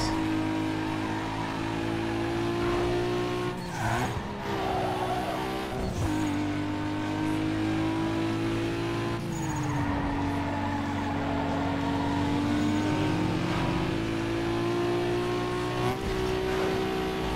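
A tuned race car in Need for Speed Underground 2 with new parts fitted, its engine holding a steady loud drone that dips and climbs through gear shifts, with occasional tire squeal and brief bumps over the continuous roar.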